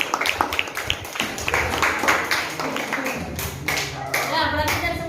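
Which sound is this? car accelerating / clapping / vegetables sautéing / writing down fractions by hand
clapping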